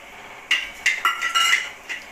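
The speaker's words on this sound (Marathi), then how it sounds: "आपला कांदा झालाय भाजून आता मी टाकते आका मसाला" Chopped onion and aka masala spice roasting in a pan for an egg curry, with a few sharp metallic clinks of a spoon against the pan, close and fairly quiet.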